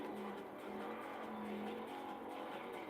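A roughly 500-horsepower car in Forza Horizon 4 holds a steady, droning engine note at sustained revs, heard faintly and continuously throughout with no talk.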